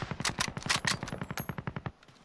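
Automatic gunfire in the video game Warzone, a rapid burst of about fifteen evenly spaced shots, fairly close and sharp, ending abruptly.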